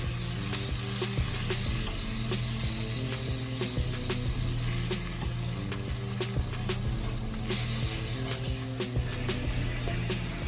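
Flour is stirred into a sizzling pan to build a sauce for smothered pork chops, giving a steady close crackle with clicking, scraping utensil strokes and no talking.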